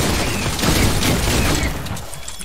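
Loud, dense gunfire crackles in a battle royale video game. One sustained rapid burst fills most of the moment, then fades slightly near the end, with no talking.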